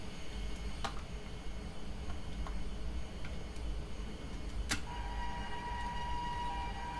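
A train passes in the MSTS simulator on the Ahmedabad–Mumbai Double Decker Express route: a faint, steady rail rumble with scattered clicks, a sharp clank near five seconds and a thin sustained tone afterward.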